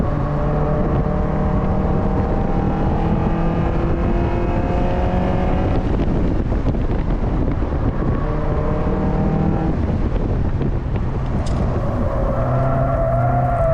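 Car on a track day spinning out and running off the track, engine roaring and dropping away through a long noisy stretch, loud and continuous with no talking.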